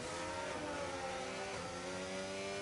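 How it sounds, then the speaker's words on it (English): A Formula 1 car engine in the F1 racing game holds a steady, high-pitched whine with rising and falling revs, faint and continuous with no talk. "Love the sound of the engines."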